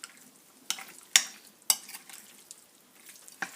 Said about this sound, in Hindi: इसको अच्छी तरह मिक्स करूँगी, तो बड़े चम्मच से करती हूँ